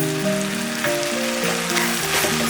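Rice being sautéed in a pan with a spoonful of thick curd for a vegetable masala pulao, giving a steady close sizzle and frying crackle with faint stirring and no talk.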